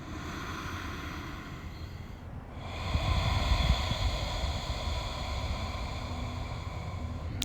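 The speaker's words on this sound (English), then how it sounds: "The Ujjayi breath sounds like the ocean." Ujjayi yoga breathing with friction in the back of the throat makes a steady, close, ocean-like rushing hiss that swells slightly midway. No one talks over it.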